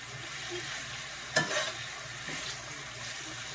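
Ingredients being stirred in a hot frying pan, a steady quiet sizzle with a sharp clatter of utensil against pan near the middle and softer scrapes later, no voices.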